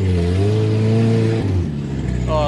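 Off-road truck with a 22RE engine climbing a snowy hill, the engine droning loud and close, dipping briefly during a mid-climb gear shift before pulling again.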